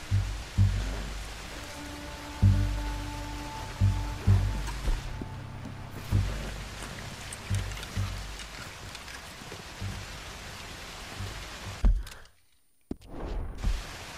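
Steady rushing water noise from a waterfall by a lake in the video game Red Dead Redemption 2, a continuous broadband roar with low thumps and a brief dropout near the end, no talk.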